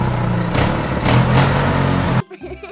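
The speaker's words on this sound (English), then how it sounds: "A fireman then arrived with the red fire engine for the class to look at." Red fire engine from a children's cartoon pulling up, a steady low engine rumble with brief rising bursts, loud and close, cutting off abruptly near the end.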